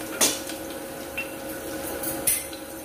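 Garlic paste frying in a pan for a quick potato dish, stirred with a spoon that gives a few sharp clinks against the metal over a soft, steady sizzle; no one talks.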